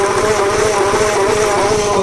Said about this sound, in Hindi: तो ये सेंट्रीफ्यूगल पंप है